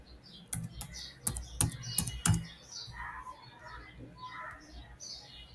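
Sharp keystrokes clatter on a computer keyboard in a few quick bursts, then quieter taps continue over faint background chirps as Windows commands are typed.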